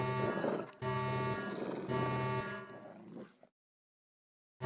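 A Streamlabs OBS stream alert sound effect: three bright, horn-like synthetic tones in a row, loud and close, then abrupt silence.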